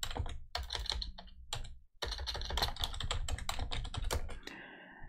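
Keystrokes on a computer keyboard clatter in quick irregular bursts, close and clear, with a short pause near the two-second mark before steady typing resumes; no talk.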